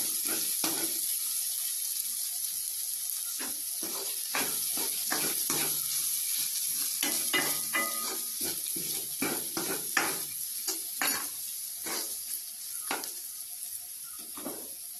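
Vegetables and salt hit hot oil in a home kitchen pan, giving a continuous soft sizzle broken by irregular clatters and scraping from stirring, moderately close with no talking.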